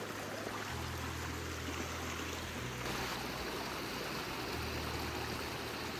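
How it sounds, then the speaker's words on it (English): Cascading Creek near Lake Tahoe flowing toward a waterfall, a steady broadband rush of water that stays constant and moderately loud throughout, with no voices. "This is the Cascading Creek going up to the falls."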